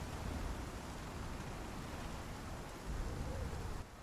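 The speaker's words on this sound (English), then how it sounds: "I'm just going to sit here and let you listen and watch the rain" Steady heavy rain with low rumbling thunder in an open world survival video game, a dense continuous wash that stays loud throughout with no voices.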